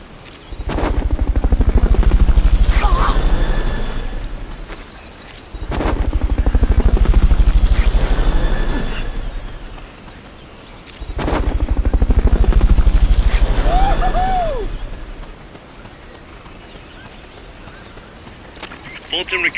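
A helicopter's rotor roar in Metal Gear Solid: Peace Walker swells and fades in three long waves, with a faint high tone and brief electronic chirps between passes.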